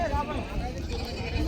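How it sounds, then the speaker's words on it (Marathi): Goats bleating at a village goat market, with nearby wavering bleats under busy crowd chatter and people talking. "अशोक मामाच्या ह्या दावणीवरच्या या शेळीचा पण सौदा झालेला आहे."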